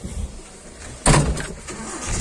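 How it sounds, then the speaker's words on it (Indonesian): A car goes by close at a welding workshop, a sudden loud swell of engine and tyre noise after a quiet stretch, then easing into a steady background hum. "Ada mobil."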